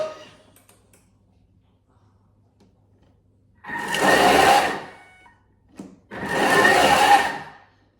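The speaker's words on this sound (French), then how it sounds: "On ressort et on va tout simplement sur le mode turbo." A food processor on turbo mode whirs loudly in two bursts of several seconds each, with a brief clunk between them and near silence before.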